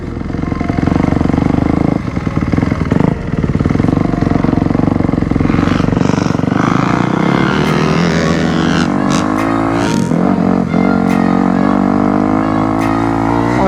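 Motocross bike on a sight lap around a dirt track, its engine loud and close throughout, revving up and down through gear changes with clattering over rough ground.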